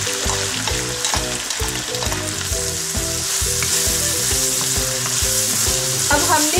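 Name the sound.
onions sizzling as they are added to hot oil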